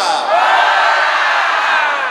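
A large congregation at a conference shouts hello together in one sustained, loud mass of voices, a dense crowd yell that fills the whole moment.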